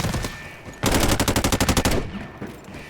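Automatic gunfire in the mobile shooter Delta Force, a loud rapid burst of about a dozen shots lasting over a second, between quieter game ambience with no talk over it.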